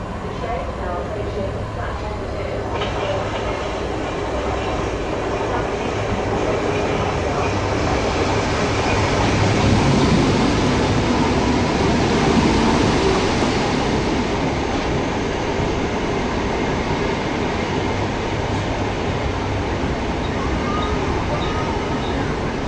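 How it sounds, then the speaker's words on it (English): A train pulls into a station in Lewisham, south London, a steady broadband rumble that swells toward the middle and then holds under faint background voices. "we're just going to wait for our next train back"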